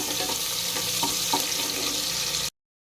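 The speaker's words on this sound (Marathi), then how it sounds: "कांदा आपलेला थोडासा लालसर कलरवर परतून घ्यायचं आहे भाजून घ्यायचं आहे" Sliced onion frying in oil until reddish for Maharashtrian masale bhat, a steady close sizzle and hiss running without pause, with a few faint stirring knocks, then cutting off abruptly.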